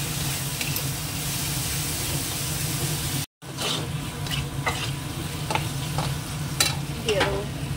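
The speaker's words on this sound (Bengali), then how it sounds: "মশলাটাকে কষিয়ে নেবো" Spice paste with turmeric, salt and a little sugar sizzles steadily in a pan while being stir-fried, with close, intermittent scraping strokes of a spoon over a continuous frying hiss and no speech.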